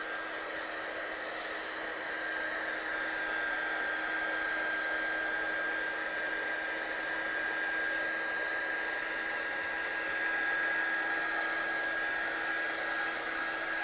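A heat tool blows hot air to dry ink on a stamped card, a steady loud whirring hiss with a high whine that runs unbroken from start to finish.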